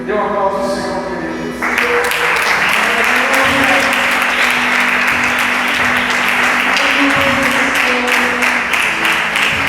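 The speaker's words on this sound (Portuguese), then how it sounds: "Dê uma aplauso ao Senhor, querido." Congregation applauding in a church worship service, a dense sustained wash of clapping that swells in after a brief sung or spoken opening and carries steadily to the end.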